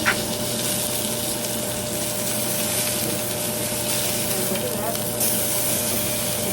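Tuna steak searing in a hot pan, a loud, steady close-up sizzle and hiss that continues unbroken for several seconds with no talk over it.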